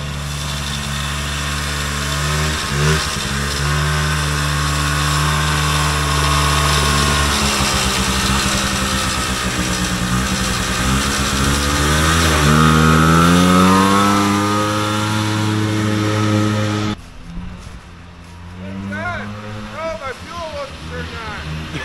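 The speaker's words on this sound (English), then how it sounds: "we got the races going now. We got Brad's golf cart." Small engines from a vintage Polaris Colt single-cylinder snowmobile and a golf cart race at a meat shop fun day, a loud steady buzzing drone that rises in pitch, then cuts out abruptly, leaving quieter engine noise and voices talking over it.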